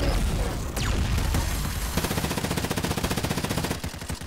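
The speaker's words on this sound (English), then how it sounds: "I've got a light machine gun. Let's hope this works." Rapid automatic gunfire from a light machine gun in a shooter video game, a loud dense stream of regular shots that grows into a steady rhythmic burst over the last half, heard alone without talk.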